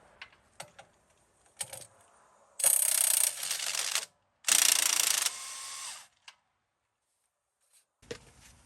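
An impact wrench works a strut bolt on a Jeep Grand Cherokee WK2 during a lift install, firing in two loud bursts of a second or more each, with short clicks and rattles of handling between and after them, no talking.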